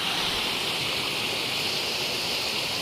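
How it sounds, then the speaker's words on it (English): A 15-foot waterfall in the Pennsylvania Grand Canyon roars close by, a steady, dense, unbroken hiss of falling water with no voices. "that's about a 15-foot waterfall going down"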